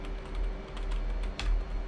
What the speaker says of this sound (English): I just realized I was typing.